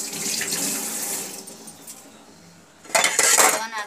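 Hot water poured from a vessel into a pot of Odia-style mutton curry, a close splashing gush that starts abruptly near the end after a quieter stretch of kitchen sounds.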